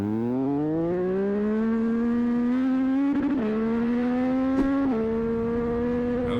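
A sport motorcycle, a Yamaha MT-09 or Honda CBR 1000, screams through the gears on a night ride, the engine note climbing steadily with quick shift breaks, loud and close as if heard onboard.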